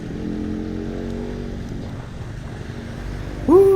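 A Yamaha RX King two-stroke motorcycle engine runs with a steady droning hum, settling lower midway, then revs up sharply into a rising whine at the end.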